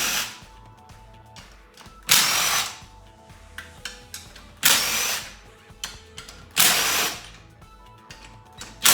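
Impact wrench loosening gearbox case bolts during a limited slip differential install, with three loud, close bursts of hammering rattle, each lasting about a second, separated by quieter clicks and handling noise.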